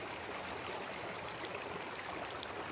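A mountain creek at a Colorado gold mining site rushes steadily, a faint, even wash of flowing water with no breaks and no voices.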